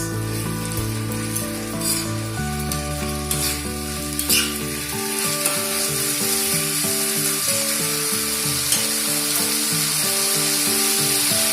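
A boiled banana flower mixture fries with spices in a hot pan for croquettes, sizzling loudly and steadily while it is stirred and scraped nearby, with no speech over it.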